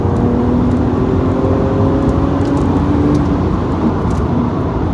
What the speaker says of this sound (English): Third gear pull for you.